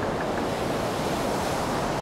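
Ocean waves surge and wash steadily in a continuous, full roar of surf with some wind noise, loud and unbroken for about two seconds before cutting off abruptly.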